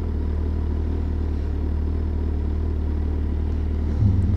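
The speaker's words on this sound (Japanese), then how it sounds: "本当に楽しいこのバイク、もうアイドリング聞いてるだけでもうワクワクする" A motorcycle engine idles with a low, steady rumble and even pulsing throb, close and constant, with a slight rise near the end.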